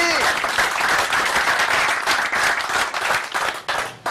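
Audience applause fills the stretch, dense and steady clapping from a crowd, loud throughout with a brief dip near the end.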